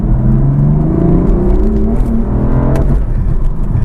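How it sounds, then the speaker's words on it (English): A BMW M4 (F80/F82/F87) accelerates hard with the traction control cutting in, a loud steady engine roar rising in pitch over about four seconds with a brief shift-like break near the end, heard from inside the car. "It's going so fast that the traction control is actually kicking in and saying that I'm slipping."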